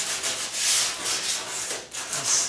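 Coarse sandpaper scrubs back and forth along the edge of a wooden door in quick, rough strokes, close up and steady with slight dips between passes.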